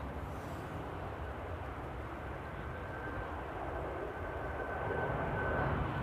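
A distant Boeing 747's broad, steady roar at Amsterdam Airport, slowly swelling louder toward the end, with no voices.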